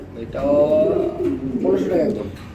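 Red checker racer pigeons cooing at close range, two drawn-out throaty coos in succession, fairly loud.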